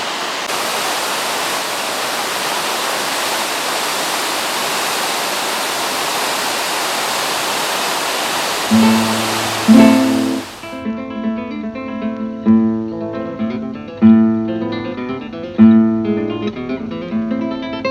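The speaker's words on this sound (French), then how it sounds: "Arrêt à la cascade de Xalas." The Xalas waterfall in Galicia falls into the sea with a loud, steady rushing roar for about ten seconds. The roar then cuts off and music with a repeating plucked melody carries on alone.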